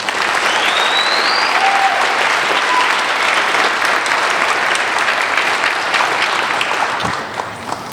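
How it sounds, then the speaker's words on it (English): An audience at a graduation ceremony applauds in a dense, loud, sustained wash of clapping that tapers off near the end. "Please give them all a round of applause."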